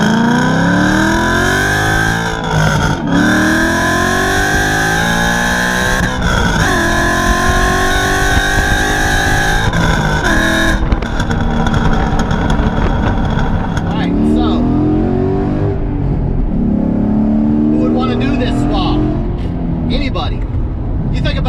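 A 2007 Mustang GT with a swapped-in Coyote V8 accelerates hard, its engine note climbing repeatedly through gear changes. The loud, close roar holds steady before easing off.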